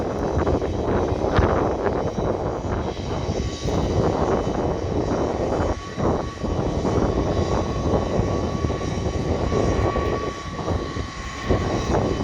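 A DC-10 water bomber air tanker flies over the Pocatello Air Tanker Base in Idaho with a loud, continuous jet roar. The sound holds steady with slight swells and a faint whine, and no one speaks.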